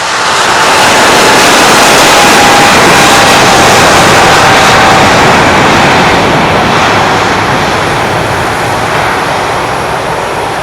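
An Air France heavy jet airliner takes off from runway 25, its engines a loud, continuous roar with a faint whine, steady and close throughout.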